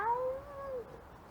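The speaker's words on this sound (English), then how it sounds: "meow." A single cat meows, a short clear rising-then-falling call heard close and alone.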